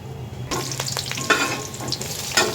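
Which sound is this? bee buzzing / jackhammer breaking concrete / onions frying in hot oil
onions frying in hot oil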